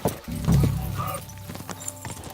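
Horse hooves clip-clopping along a road in Kingdom Come Deliverance II, a steady rhythmic trot of repeated hoofbeats heard fairly close, strongest in the first second and continuing more softly, with no talk over it.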